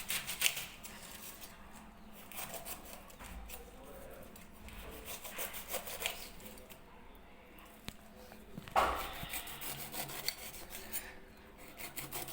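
A knife cuts through a home-grown pineapple, with close, rough, rasping sawing strokes and occasional firmer crunches. The sound is fairly quiet and there is no talking.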